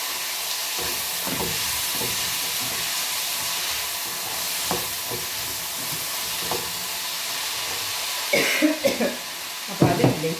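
Raw banana and yam pieces frying in a pan, a steady hiss and sizzle broken by scattered clatters of stirring, with louder scraping and knocks of the utensil near the end.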